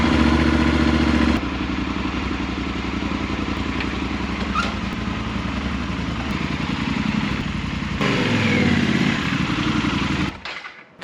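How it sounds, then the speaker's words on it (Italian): Motorcycle engine started after five nights in freezing cold, settling into a loud, close, steady clattering idle, with a change in tone midway before cutting off at the end; no talking. "Ora accendiamo la moto dopo 5 notti passate alla ghiaccio."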